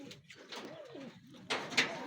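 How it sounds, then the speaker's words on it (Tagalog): Racing pigeons in a loft after a training race cooing softly, a few low, rolling coos up close with light rustling and a brief flutter, faint voices in the background. "Yung mga ibon natin."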